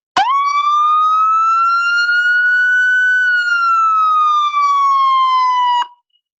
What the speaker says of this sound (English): We also have sirens to help people hear.